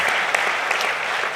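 An audience's sustained applause at a talk on immigration, justice and British culture: dense, even clapping without pause and with no voices.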